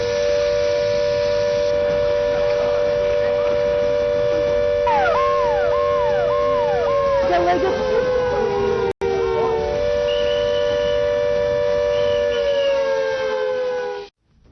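A loud civil defence siren wails steadily during a mock drill in India, rising and falling in pitch through several cycles before cutting off abruptly at the end.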